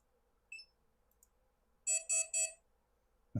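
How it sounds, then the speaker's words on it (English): A microwave beep sound effect plays as three quick, evenly spaced electronic beeps, bright and clear, preceded by a faint short tone and followed by a soft click, in an otherwise quiet room. "Or microwave beep."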